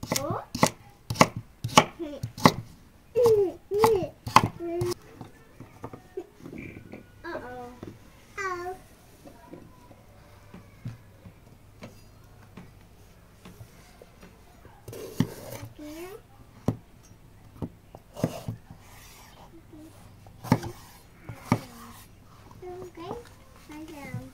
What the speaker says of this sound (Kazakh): Сәбізімізді де картоп сияқты ірі ғып тураймыз.